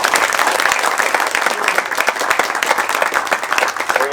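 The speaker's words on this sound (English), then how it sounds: "let's give a round of applause first to our frontline healthcare workers" A crowd at an outdoor community press conference gives a loud, close round of applause, with sharp individual claps standing out in the dense clapping throughout.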